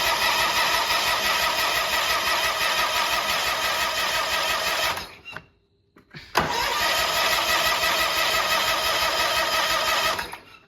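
Big riding mower engine roars loudly and steadily, cuts out for about a second, then restarts and runs again at full volume to the end.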